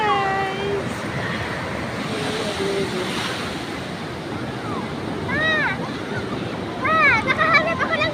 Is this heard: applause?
no